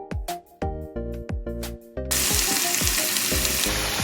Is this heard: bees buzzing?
no